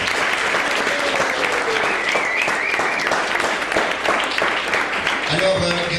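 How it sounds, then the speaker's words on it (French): Audience applause for the first poet at a slam poetry competition, dense and steady throughout, with a few raised voices and cheers mixed into the clapping. "Je crois qu'on peut applaudir le premier."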